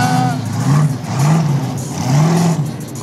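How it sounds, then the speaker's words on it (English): A monster truck engine revs in repeated surging pulses, a loud mid-pitched roar rising and falling about three times at an off-road racing event. "Monster truck."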